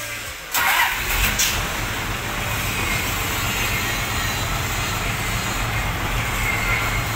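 A car fitted with a new, not yet secured exhaust at an exhaust shop fires up with a sharp burst, then settles into a steady, loud, throaty idle rumble close by.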